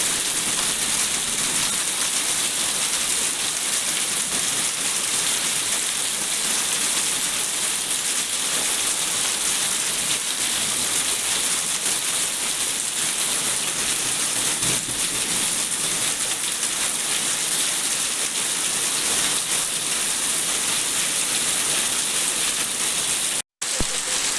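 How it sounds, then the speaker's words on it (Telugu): Heavy midnight rain with hail in Telangana pours as a dense, steady hiss that holds at one level throughout, close and loud, with no voices. "తెలంగాణలోని పలు జిల్లాల్లో అర్ధరాత్రి వడగళ్ల వాన కురిసింది."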